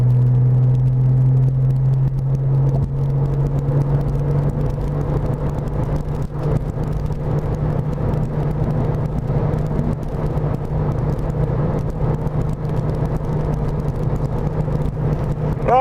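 A Porsche engine runs at a steady idle, a continuous low rumble with a constant hum, close and unchanging throughout with no revving.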